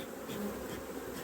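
Bees buzzing around homemade wooden beehives at an apiary, a steady close drone of many insects.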